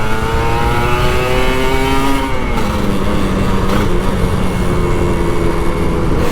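Kawasaki Ninja RR 150 two-stroke motorcycle revving and accelerating through a corner on the road, a loud steady engine drone with rising pitch under strong wind noise.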